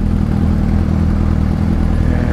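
Suzuki SRAD 750 motorcycle engine running close by, a loud steady rumble with a mechanical clatter that holds level throughout, no voices over it.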